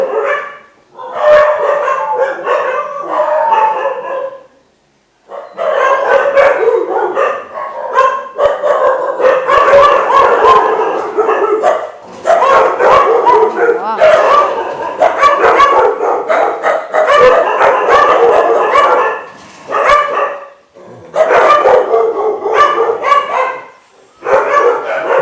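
Several large pet dogs at a house barking loudly and nearly nonstop in long volleys close by, with yips and whimpering mixed in and brief pauses between bursts.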